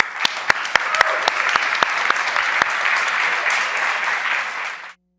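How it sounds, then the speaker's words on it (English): An opening-night party crowd applauds: a few sharp individual claps swell quickly into a full, loud round of clapping that holds steady, then cuts off abruptly near the end. "let's give her a round of applause."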